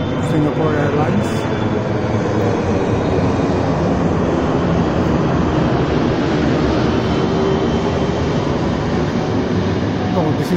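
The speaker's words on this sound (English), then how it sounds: "next to the full moon is flight landing in New Delhi" Airliner landing in New Delhi, a steady loud rumbling roar of jet engines heard from the ground, continuous throughout with no break.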